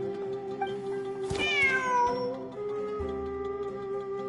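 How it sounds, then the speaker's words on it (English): A cat meows in the Genshin Impact video game, a single clear rising-then-falling meow heard up close over a soft steady musical background. "Wait, there it is! The cat!"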